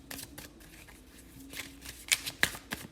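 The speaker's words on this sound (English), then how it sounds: "Like I'm shuffling like I normally do, but the cards are all over the place" Tarot cards shuffled by hand at close range, a rapid run of soft riffling flicks and crisp snaps in irregular bursts, quiet and alone without talk.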